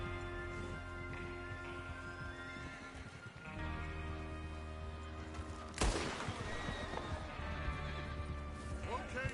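Horses whinny and snort with clip-clopping hooves and gear clatter in Red Dead Redemption 2, close and busy, with a sharp crash or shot partway through and faint talk in the background.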